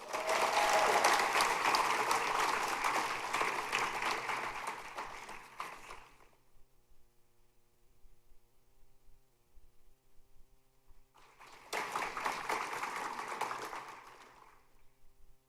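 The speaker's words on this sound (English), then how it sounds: "Let's have a round of applause for Rakshana Devala." Audience applause at a high school senior scholarship awards ceremony: about six seconds of steady clapping that fades into quiet room hum, then a second burst of clapping rises again before tapering off.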